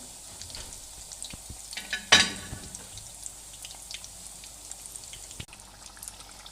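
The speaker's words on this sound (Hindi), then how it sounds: "ये कोन शेप में अब मैंने डाले हैं, ऑयल में फ्राई हो रहे हैं।" Cone-shaped veg spring rolls fry in hot oil with a steady, crackling sizzle. There is one sharper burst of spattering partway through, then a quieter bubbling that carries on. No one speaks.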